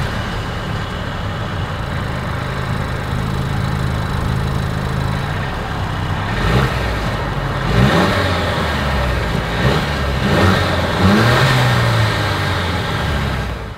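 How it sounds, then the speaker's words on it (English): A 2023 Mercedes-Benz C 300 Coupe exhaust revs close by, a steady idle rumble broken by several sharp throttle blips in the second half, with no talk. "As always, here is that exhaust clip."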